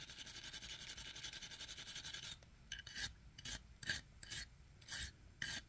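A multi-tool is rubbed and polished by hand: a steady, fast rasping scrub at first, then a series of separate short rubbing strokes, close and quiet with no voices.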